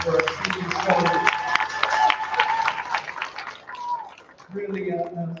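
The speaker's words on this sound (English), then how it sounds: "So I'll ask you for a round of applause for our senior showmen." Audience at a county stock show swine show applauding the senior showmen, a broad wash of crowd clapping in a large arena, with an announcer talking over it and music tones alongside.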